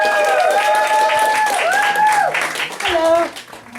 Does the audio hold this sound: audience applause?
yes